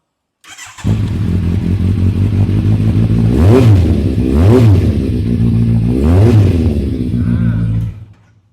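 A motorcycle with a genuine Akrapovic exhaust idles loudly and close, then is blipped three times in distinct rising-and-falling revs before the engine cuts off.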